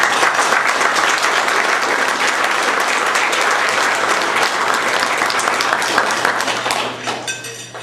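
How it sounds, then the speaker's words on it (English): Loud, dense applause from an audience at a 2007 Ron Paul campaign rally in Phoenix, Arizona, sustained for several seconds before tapering off near the end. "and I think we should really applaud that."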